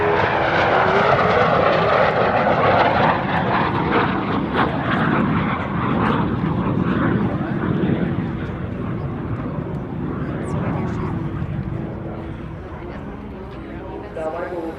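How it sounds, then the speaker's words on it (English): An L-39 Albatros jet roars past at an air show, a loud sustained rumble that slowly fades, with an announcer's voice over the engine. "From the left, here he comes, Mike Bear, the L-39 Albatros."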